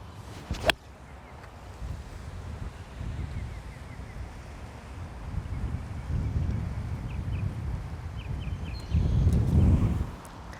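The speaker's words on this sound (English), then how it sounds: "Wind kind of picked up a little weird there" Gusty wind buffets the microphone on an outdoor golf course, a steady low rumble that swells in the middle and surges strongest near the end, with a sharp knock early on.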